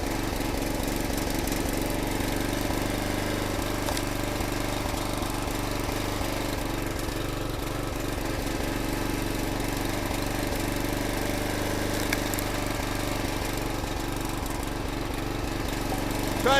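A log splitter's small engine with a broken throttle runs steadily on its own, a loud, continuous mid-pitched drone that swells from low toward higher revs with a rough, knocking vibration and no talk over it.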